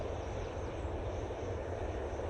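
A fixed-wing airplane on final approach at Manchester Airport, a steady, fairly loud engine roar filling the moment without any talking.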